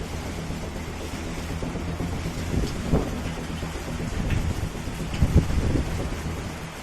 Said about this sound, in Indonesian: Lagi hujan angin.